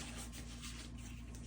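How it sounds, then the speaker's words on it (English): Steady, soft rubbing of 320 grit sandpaper scuffing the surface of guitar wood, a faint continuous rasp with gentle back-and-forth swells. "you just scuff the surface of the wood"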